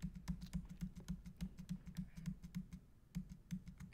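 Code typed on a computer keyboard: quick, fairly even keystrokes in a close, quiet run with a brief pause near the end, and no voices.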